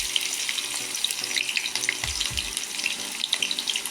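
Onions fry in oil on an induction stove for a Kashmiri sun-dried bottle gourd and mutton dish, making a steady, close hiss and crackle that runs throughout, with a couple of soft low thumps midway.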